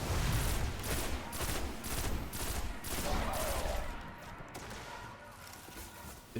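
Pulse rifle fire in the video game Destiny, a dense stream of rapid burst shots that keeps going for several seconds, loud and close over a noisy game background, then tapers off slightly toward the end.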